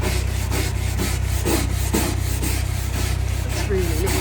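Pine furniture is scrubbed after an oven cleaner treatment in a steady, close, rhythmic rubbing and scraping, with a low constant hum underneath.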